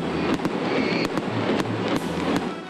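A professional fireworks display bursts in rapid succession, several sharp loud cracks and booms spaced close together over a continuous crackling roar, with no voices.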